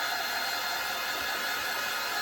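A hair dryer blows steadily and loudly across a freshly applied coat of yellow chalk paint, a continuous broadband whoosh with no talking.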